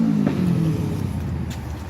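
A BMW E30 engine with a cracked part running at a rough idle, a close, steady low rumble with an uneven, pulsing texture throughout.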